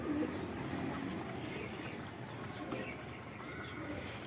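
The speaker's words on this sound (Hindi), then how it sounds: "ये देखें माशाल्लाह बहुत प्यारा कबूतर है ये" A pigeon coos softly in a low, throaty murmur amid faint background ambience, quiet and fairly distant, with no clear speech.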